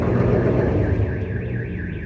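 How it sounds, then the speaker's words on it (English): A car alarm in a garage, set off by vibrations from a passing truck, blares loud and close over a heavy low rumble, its siren tone rising and falling in a steady sweeping cycle. "He set off the car alarm with the vibrations from the truck."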